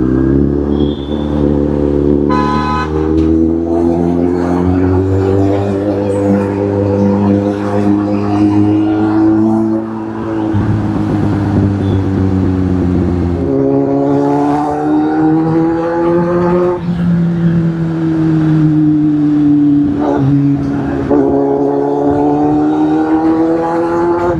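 Moving road traffic in Pune, several cars passing close one after another with engine tones rising and falling, a continuous drone with no voices.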